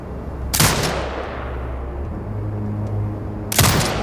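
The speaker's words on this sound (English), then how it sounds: "Exit binocular mode and command the turret to fire" Two heavy turret shots fired in the video game Sniper Ghost Warrior Contracts 2, each a loud booming blast with a long rumbling tail, spaced about three seconds apart over a low ambient drone.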